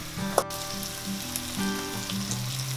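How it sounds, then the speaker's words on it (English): Cooked rice goes into a pan of oil tempered with turmeric powder for lemon rice, a quiet but steady sizzle with a small tap and soft stirring, no one speaking. "Next I'll add in my cooked rice."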